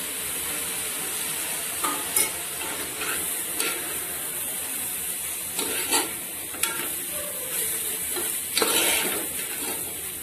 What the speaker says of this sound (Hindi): चारों साइड से चलाते हुए दूध को अच्छे से मिक्स कर लेना है।